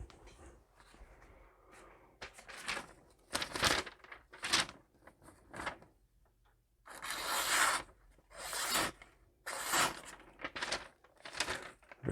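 A knife blade in 4V steel is drawn across a DMT Fine 600 grit diamond stone in repeated close, gritty rasping strokes with brief pauses between passes.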